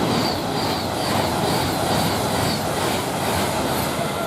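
Freightliner freight train passing through Milton Keynes Central railway station, a loud, steady roar of wagons rolling close by with continuous rail rumble and wheel noise, no voices.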